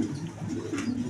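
Pigeons being shown for sale, including an army-pigeon breed pair with their chick, coo in a soft low continuous murmur over a steady room background.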